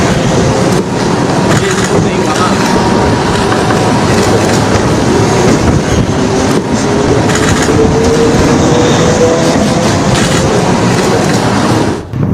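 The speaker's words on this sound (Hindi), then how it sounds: "आप देख रहे हैं उसी पुल से ट्रेन गुजर रही है।" A train crosses a long bridge at night, a loud, steady rumble with rhythmic clickety-clack of wheels and a faint rising squeal, continuous throughout as it passes close by, with a voice speaking over it.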